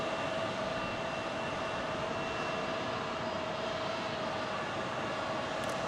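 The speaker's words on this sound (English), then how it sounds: "Nice look at the A321neo for American Airlines right there." An American Airlines Airbus A321neo airliner at Phoenix Sky Harbor, a steady, fairly faint jet engine hum with a faint tonal whine that holds constant throughout.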